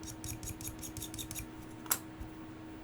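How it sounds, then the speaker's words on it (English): Handheld scraping tool dragged over painted feet to strip paint, giving a run of short, close rasping strokes in quick rhythm over about a second and a half, then one sharper scrape, with quiet handling noise between. "I'm just going to scrape the paint off there"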